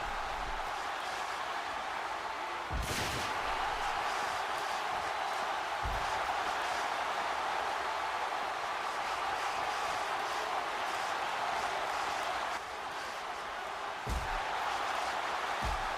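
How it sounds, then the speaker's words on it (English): Singapore cane strikes in the WWE 13 wrestling video game ring out as a few sharp, heavy smacks over a constant loud arena crowd roar. "CM Punk with two huge Singapore cane shots, showing RVD how extreme CM Punk is willing to go."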